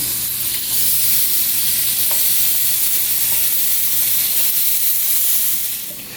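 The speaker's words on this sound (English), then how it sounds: "So let's go ahead and add our bacon in." Bacon sizzling loudly in a pan for a green bean casserole, a dense continuous frying hiss with a few soft stirring sounds, no talking.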